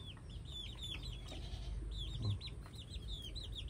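A freshly arrived Taiwan-bred gamefowl rooster clucks softly in a rhythmic series of short, high notes, close by in a quiet setting with no talking.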